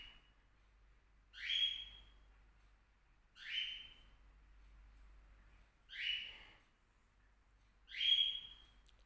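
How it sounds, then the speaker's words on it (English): A pet bird gives four separate loud calls at even intervals, each a sharp rising whistle-like cry, with quiet gaps and a low steady hum between them. "My bird is making so much noise."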